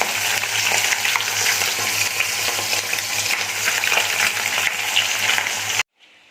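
Fish fries in a pan with a steady, dense sizzle and crackle of bubbling oil, close and continuous for about six seconds before it cuts off abruptly.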